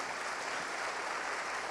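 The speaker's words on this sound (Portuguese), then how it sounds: "Você pode aplaudir a Jesus por isso?" A church congregation applauds together, a dense, steady wash of clapping that fills the space evenly for a short stretch with no voices standing out.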